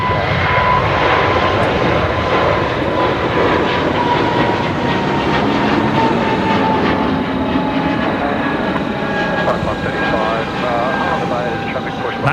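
An Airbus A220 jet at Brisbane Airport gives a loud, steady roar with a whining engine tone that holds across the whole stretch, while a voice talks faintly underneath.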